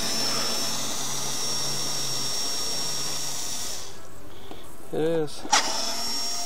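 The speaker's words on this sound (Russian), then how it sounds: "То есть, ну, мы шуруповертом. Тут быстрее обороты, здесь небольшие обороты." Under a steady background hum, a cordless screwdriver gives a short whirring spin-up near the end while removing screws from a car's air filter box, and a voice speaks briefly.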